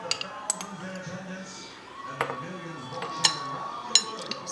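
A metal spoon clinks lightly against a dish while strawberries are spooned over keto strawberry shortcake: a few sparse, bright taps spread through a quiet kitchen with faint voice-like murmur beneath.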